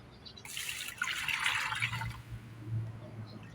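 About four liters of water poured into a container to make a fertilizer mix for bougainvillea: a quiet, brief splashing rush of liquid that fades into a low steady hum.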